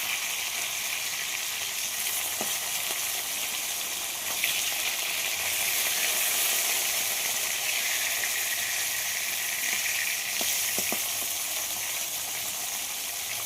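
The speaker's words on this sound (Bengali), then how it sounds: "এইভাবে মাছ ভাজা করবেন, মাছ একটুও ভাঙবে না" Pieces of fish fry in a hot pan with a steady, even sizzle and a few faint clicks, and no voices.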